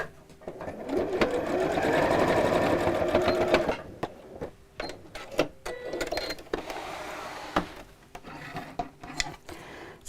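A sewing machine stitches around the edge of a lined apron strap, a sustained close whirring run for a few seconds followed by stop-start bursts and clicks of handling.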